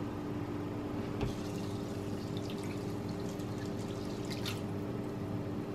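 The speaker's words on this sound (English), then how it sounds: "And then final ingredient, water." Water is poured into a mushroom and barley soup in an Instant Pot, giving a soft, continuous splashing trickle under a low background hum. There are a few faint drips and no talking.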